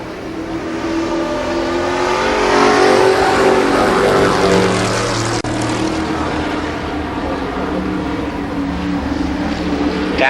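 All American Midget race cars roar around the Columbus Motor Speedway oval, their engines a loud, continuous, close rasp that swells and holds steady as the pack passes.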